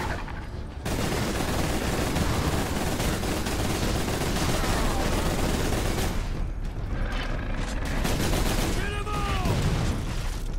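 A loud, nearly continuous barrage of gunfire and explosions rages in the video game Space Marine while fighting orcs, dropping away briefly before resuming.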